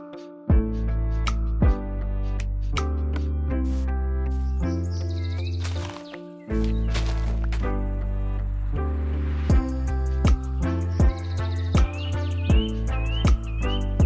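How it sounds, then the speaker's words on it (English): Minecraft bird chirps from a modded Over Stars world, faint high tweets scattered over loud sustained game music notes, with no one talking. "Okay, that's the birds"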